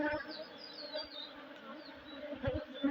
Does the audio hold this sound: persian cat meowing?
no